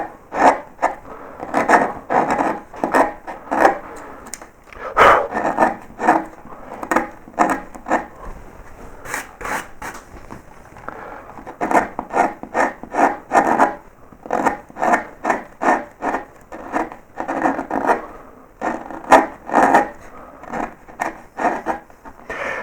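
Short bent carving tool cutting into wood while levelling a three hares motif: repeated short scraping and paring strokes in irregular clusters with brief pauses, close and moderately loud, no talk.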